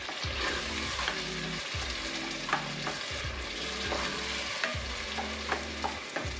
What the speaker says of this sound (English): So I'm now going to add in my chopped tomatoes. And give that a stir.